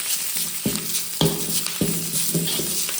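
Curry leaves crackling and sizzling as they drop into hot oil for saaru, a steady frying hiss with sharp spitting pops every half second or so, close and continuous.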